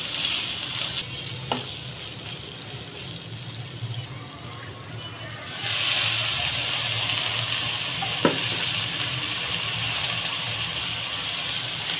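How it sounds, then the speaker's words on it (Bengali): Ginger-garlic paste fries in a pan and is stirred, a steady close sizzle that swells louder halfway through, with a few sharp spatula clicks and scrapes and no talk. "আদা রসুনের যে পেস্ট একটু নাড়াচাড়া করে"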